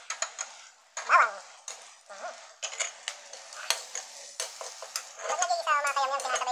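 Chopped onion sautéing in a pan while being stirred for a Bicolano ginataang santol, with scraping utensil clicks and scrapes over a light sizzle that gets louder and busier near the end.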